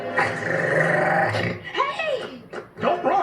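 A dog growls and snarls in a 1984 G.I. Joe cartoon safety message: a long, low growl, then shorter menacing snarls and yips, loud and close.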